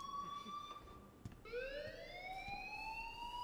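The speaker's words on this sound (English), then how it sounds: "please turn off that alarm since that's your job" Electronic fire alarm in the video game Life is Strange, a steady high electronic tone that shifts to a rising siren-like pitch midway, sounding continuously without any talking.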